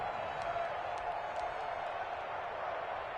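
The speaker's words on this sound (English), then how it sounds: "the crowd getting into it as we come up on a big 3rd down" Football stadium crowd building before a big third down, a steady, distant roar of cheering voices with faint whoops rising over it.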